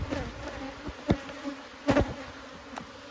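Sparse honey bees buzz in an opened backyard hive during an inspection, a thin hum with a few louder passes as individual bees fly close by.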